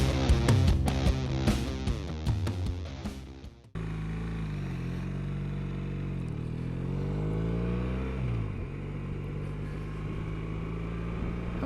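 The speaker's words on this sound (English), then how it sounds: "Next time you see me, we'll be on the bike and we'll be having a bit of a thrash around." BMW R1200RS motorcycle ridden on Cornwall roads between Probus and St Mawes, a steady engine drone with rising and falling revs as it shifts gears, heard alone after a short burst of music.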